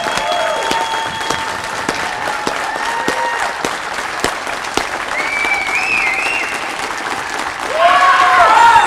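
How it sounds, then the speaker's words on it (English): Dense, steady audience applause fills a speaking event in Texas, swelling at the end with a few whistles and cheers on top. "Let us give her a big applause."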